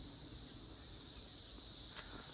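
Cicadas drone outdoors near a military macaw parrot, a steady high-pitched buzzing that holds at a constant faint level throughout, with no voices.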